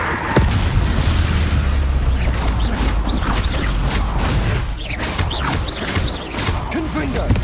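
A Confringo blasting spell explodes in Hogwarts Legacy, loud booming bursts and crackling impacts rolling one after another amid dense spell and combat effects.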